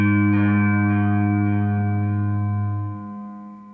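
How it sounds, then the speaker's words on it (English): A guitar played through the Game Changer Audio Light Pedal on its reflect lo-fi delay setting: one loud sustained chord rings alone with a smeared, echoing tail and fades near the end. "reflect is like its lo-fi delay we were talking about"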